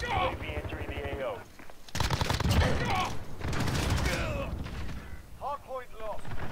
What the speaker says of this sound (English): Shooting him in the dark.